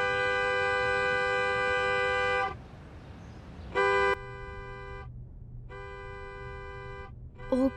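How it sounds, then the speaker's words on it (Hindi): A car horn honking outside a house gate, several long sustained blasts separated by pauses, loud and close, ending with a short toot over faint engine idle. "यार 10 मिनट से हॉर्न बजा रहा हूँ"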